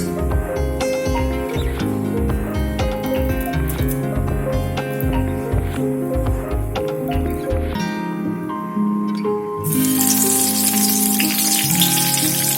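Mustard seeds and curry leaves sizzle and crackle in hot oil for vada pav, with close, rapid pops and spatters, then a loud, sudden hiss near the end as more goes into the pan.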